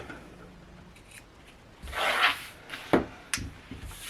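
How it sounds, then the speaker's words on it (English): Scissors trim fabric corners on a sewn shirt: a few quiet snips and rubbing sounds of cloth handled at close range, with soft crisp cuts near the end and no talking. "And then I'm just going to trim these down."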